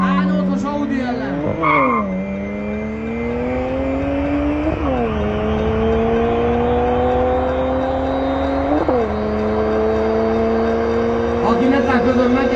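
Drag race between a 500 hp BMW E92 335i coupe and an Audi A8 4.2 TDI V8: a loud engine climbs steadily through repeated gear changes, tire squeal near the start, crowd noise and talk running underneath.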